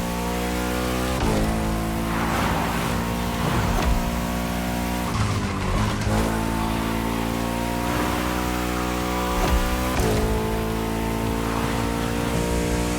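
A modded V8 muscle car in the racing game The Crew revs hard and steadily, with a loud engine drone that rises and falls through gear shifts and has brief tire squeals, alone and close throughout.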